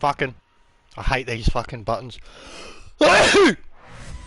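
A single sharp sneeze bursts out loudly near the end, following a man's muttered, annoyed talk during a sim racing lobby.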